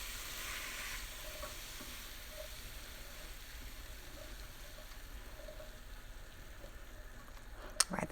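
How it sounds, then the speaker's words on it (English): Squash and zucchini stirred in a pan for vegan jambalaya pasta: faint, steady scraping and stirring over a soft sizzle, with a sharper knock near the end. "I'm gonna mix that in."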